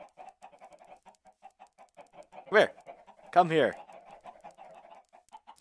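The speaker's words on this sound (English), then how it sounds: "Come to me, chickens." Minecraft chickens cluck in two short bursts around the middle, fairly close, under a soft rhythmic background patter, with someone talking briefly in between.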